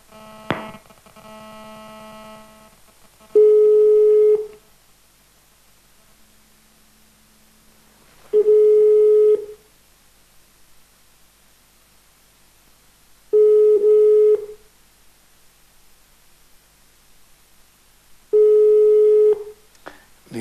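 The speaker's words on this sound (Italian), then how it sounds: "Abbiamo una telefonata." An unanswered telephone call rings out during a live Italian television talk show. Four long, loud ring tones repeat at even intervals of about five seconds, with near-silence between them and a brief dial tone at the start.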